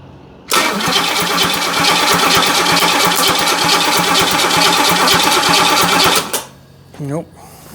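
A 1968 Camaro with a 327 small block Chevy engine cranks over on the starter in a fast, loud, even chugging rhythm for about six seconds without firing, then stops, and a voice speaks briefly.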